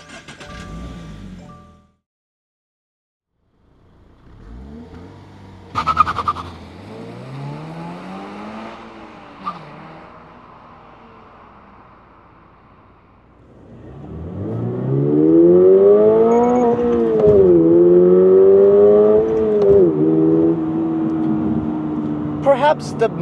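A 2024 Subaru BRZ tS engine on the road, revving up and shifting through gears, a rising and falling engine whine that builds louder in the second half, with someone talking over parts of it.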